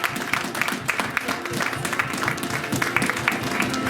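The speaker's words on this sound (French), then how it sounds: "Je vous demande d'applaudir le Saint-Esprit dans la talentueuse Luciara." A church congregation applauds a young woman being called forward, a dense, steady patter of many hands clapping at close range that continues throughout.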